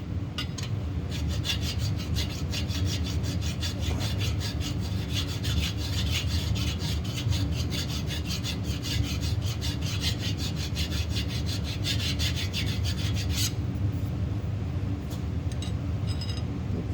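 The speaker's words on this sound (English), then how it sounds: "If you don't let the file rock, you won't have anything flat that way." A hand file worked flat across a metal surface on a Chevy 350 engine at the water pump bolt area, a continuous loud, close rasping of rapid back-and-forth strokes that stops near the end.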